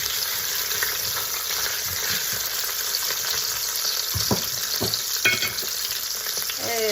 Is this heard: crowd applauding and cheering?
no